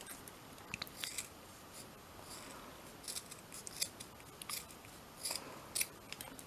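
Scissors snip through the ends of mini broom-stick bristles in a series of short, crisp cuts spread across the stretch, close by and fairly quiet, with no voices.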